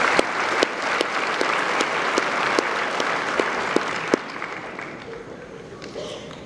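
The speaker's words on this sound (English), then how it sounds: "our family, and other loved ones deserve a round of applause for preparing us our entire lives" Audience applause follows a commencement speech, a dense, even clapping from many hands with a few sharper claps standing out, moderately loud, then fading into a thinner patter near the end.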